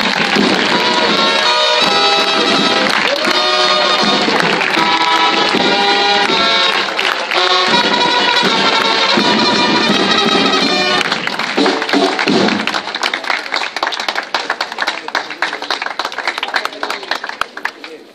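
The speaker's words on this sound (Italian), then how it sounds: "Applauso!" At an award ceremony in Monte Carlo, an audience applauds loudly and steadily while music plays over it. The sound fades and thins toward the end.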